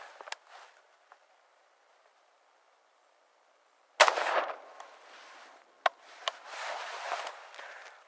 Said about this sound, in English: Let's go and shoot.